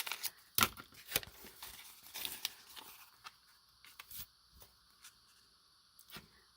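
Scissors snipping through a sheet of peel-and-stick wallpaper at close range: a run of sharp, uneven cuts and crinkles early on, then sparser, fainter snips and paper rustles in an otherwise quiet room.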